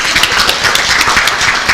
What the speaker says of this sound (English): How about a round of applause for our wonderful Hilton?